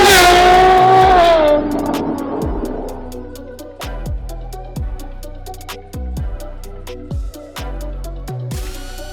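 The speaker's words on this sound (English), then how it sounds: "I'm willing to bet this is the best sounding 812 you've ever heard." A Ferrari 812 Competizione V12 with a full titanium exhaust roars in a high rising rev that drops away, then fires a series of sharp, evenly spaced blips with crackles between them, loud and close.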